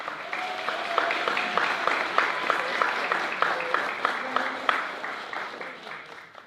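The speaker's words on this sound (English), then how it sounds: "Can we give her a nice round of applause?" Audience at a school board meeting applauds steadily for several seconds, with a few individual claps standing out and a brief tone or voice underneath.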